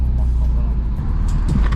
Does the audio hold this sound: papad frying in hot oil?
no